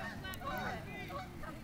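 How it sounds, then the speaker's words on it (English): Geese honking near a softball field, a few quiet overlapping calls against faint outdoor background. "Geese."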